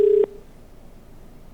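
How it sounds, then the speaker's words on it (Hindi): A telephone call being dialed: a short steady tone sounds clearly at the start, then cuts off, followed by faint line hiss and the hint of another tone beginning at the end. "उनको फोन लगाया जाए।"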